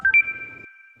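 A phone ringtone gives a single short electronic tone that holds steadily for about a second, clear and fairly quiet with no talking over it.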